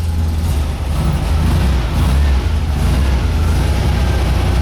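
A Volkswagen Beetle with a cold engine and a faulty generator drones steadily while driving, a loud, continuous low engine rumble mixed with road and wind noise, no voices.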